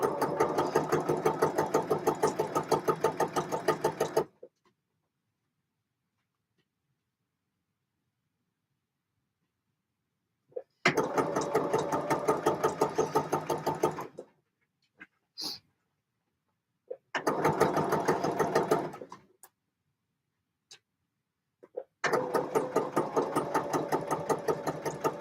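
A sewing machine stitches a jacket in four long runs of fast, steady mechanical chatter, separated by silent pauses with a few faint clicks.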